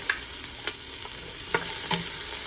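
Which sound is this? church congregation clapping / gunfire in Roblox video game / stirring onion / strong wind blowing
stirring onion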